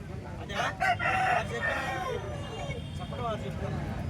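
A rooster crows loudly and nearby at a busy poultry market in Bhadradri Kothagudem, one drawn-out call followed by hens clucking, over a background of people talking.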